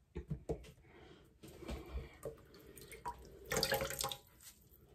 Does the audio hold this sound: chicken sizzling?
no